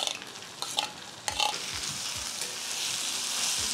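Tomatoes frying in a pan with softened onion, ginger and garlic for chana masala, stirred with a utensil: steady close sizzle with repeated scraping strokes, a burst of louder stirring near the start, no talking.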